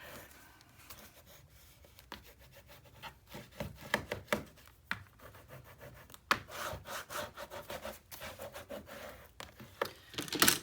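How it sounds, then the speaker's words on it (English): A paper panel of an 8 x 8 mini album is burnished by hand in a run of close, uneven rubbing and scraping strokes, with a few sharper swipes toward the end and no voices. "And we'll give it a good burnish."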